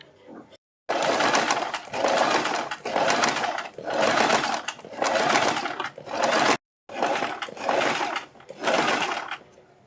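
A sewing machine stitches a neck design on a suit or kurti in loud, close bursts of rapid mechanical whirring, about seven runs separated by short pauses.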